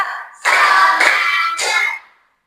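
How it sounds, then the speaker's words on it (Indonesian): Hand clapping in a classroom focus exercise: two loud, sustained bursts of clapping from a group, the first longer, the second shorter, then silence. "Tepuk 1, tepuk 2, tepuk Tepuk 3."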